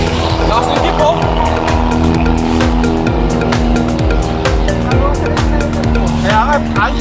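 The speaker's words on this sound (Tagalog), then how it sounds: "Lakas ng jeep oh." Loud jeep engine revving and roaring up close on the road near Monte Maria Shrine in Batangas, a steady harsh drone with rattling pulses throughout and people talking over it.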